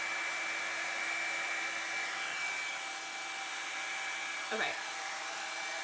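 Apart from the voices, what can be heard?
Hot Tools One-Step Blowout Styler hair dryer running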